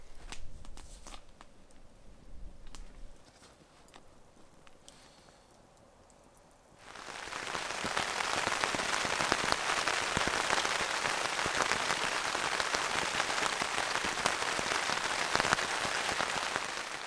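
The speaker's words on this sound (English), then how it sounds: "I just started feeling the rain come down" Steady rain comes down on a tarp at a backwoods camp, starting abruptly partway through after a quieter stretch and then holding as a dense, even patter up close.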